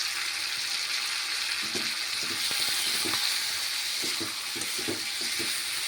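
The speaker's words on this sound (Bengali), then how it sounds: "এবার আমি বেটে রাখা আদা রসুন আর সামান্য টমেটো পেস্ট করে" Ground ginger, garlic and tomato paste sizzle in a pressure cooker with chicken, a steady hiss broken by brief scraping stirs, close and alone without talk.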